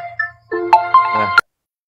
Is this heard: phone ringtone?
yes